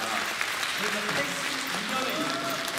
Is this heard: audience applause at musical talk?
yes